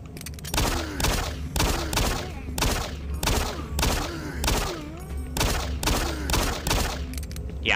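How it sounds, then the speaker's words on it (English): Weapon fire in the video game Doom 3: Resurrection of Evil, with repeated loud booming shots at a steady rhythm of roughly two per second, each followed by a heavy thud, and no talking over it. "I'm basically shooting his neck."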